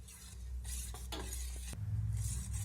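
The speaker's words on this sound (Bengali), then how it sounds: "আর একবার ভালো করে গুলিয়ে নেব।" Egg batter for a bread-and-egg snack being whisked again in a bowl with a fork, close rhythmic scraping and clinking strokes over a steady background sizzle of oil heating in a pan nearby.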